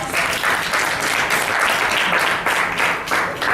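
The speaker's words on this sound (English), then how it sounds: "can we just give Brian a round of applause?" An audience at a business plan session applauds for Brian, a steady, dense round of clapping heard alone at close range, lasting the whole stretch.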